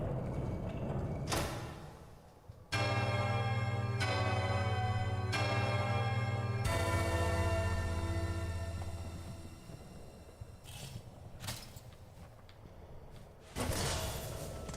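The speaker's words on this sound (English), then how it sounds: "Are we ring-a-dinging the bell?" A bell rung in the video game Hollow Knight: Silksong sounds as a loud, sustained metallic tone that swells, is struck again twice and rings long before fading, with no talking over it.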